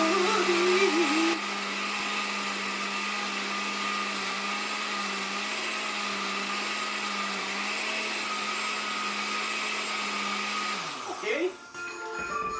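Blender whirring steadily while blending a green juice smoothie, a loud sustained motor drone with a short voice near the start, then winding down and stopping near the end.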